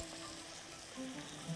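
Sausage sautéing in a pan, a steady faint sizzle that stays even and continuous throughout, close but quiet, with no talking.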